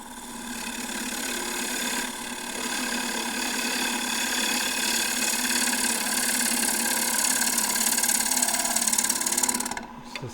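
A 3/8 bowl gouge cuts into a wooden bowl spinning on a lathe, a continuous humming, rattling drone lasting about ten seconds before it stops.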